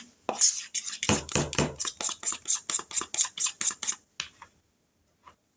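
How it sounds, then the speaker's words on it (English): Metal pans and bakeware clatter and clank in a kitchen while a pan is set out for baked apple butter donuts, a rapid series of sharp, close, bright knocks that stops abruptly, followed by near silence. "And I got to get a pan to set these donuts on."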